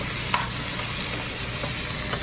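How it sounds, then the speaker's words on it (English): Tomato sauce bubbles in a pan with a steady sizzle, while a spoon drags through it in a few brief scraping strokes close by. "Give that a good stir."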